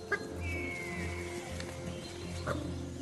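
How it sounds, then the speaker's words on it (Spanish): Dholes, wild dogs of Kabini, give faint whistling calls at a distance over quiet ambient background noise. A few short, sharp yelps stand out. "Los perros salvajes de Kabini."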